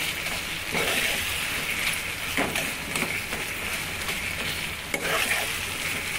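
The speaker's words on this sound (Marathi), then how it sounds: "हा जो मसाला आहे त्यावेळेस आपण थोडंसं असं मॅश करायचं टोमॅटोला" A spoon or masher presses cooked tomato into sizzling onion-tomato masala with oil separating at the sides, for a squid masala curry in a pan. A steady hiss and crackle runs throughout, with soft scraping thuds, and no talking.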